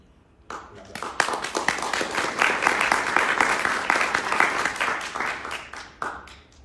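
Audience applause welcoming a guest at a panel discussion: scattered claps start, swell into full, lively clapping from a modest crowd, then thin out to a few last hands.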